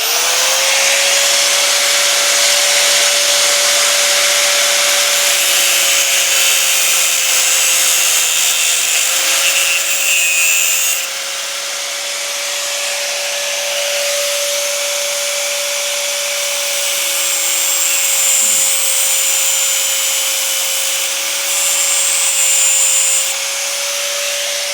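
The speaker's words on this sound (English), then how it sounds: "I take a thin disc and a 4-inch angle grinder like this, and you can cut them quite safely into down at about that shoulder there" A 4-inch angle grinder fitted with a thin cutting disc cuts into a metal clamp, a loud steady whine that keeps going for the whole stretch with only slight dips as the cut goes on.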